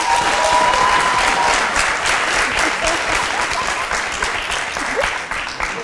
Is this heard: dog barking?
no